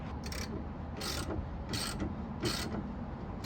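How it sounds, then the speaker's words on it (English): A socket ratchet cranks down a ball joint press on a T1N Sprinter van. Four evenly spaced bursts of clicking come about every three-quarters of a second, close but fairly quiet, over a steady background hum. "you're gonna get a socket, and you're gonna start cranking this down"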